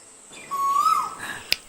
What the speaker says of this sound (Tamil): அக்கா குருவியே தான் அது